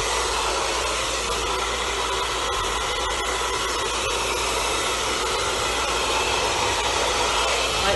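A hair dryer blows steadily and loudly the whole time while hair is brushed, giving a constant airy roar with no speech.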